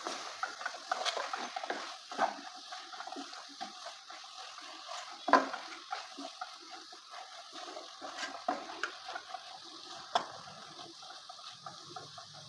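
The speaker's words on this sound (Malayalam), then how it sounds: "ഇനി ഇളക്കി കൊടുക്കാം" A Kerala-style prawn roast masala is stirred in a pan, producing soft scraping strokes and faint sizzling in irregular bursts, close and fairly quiet, with no voices.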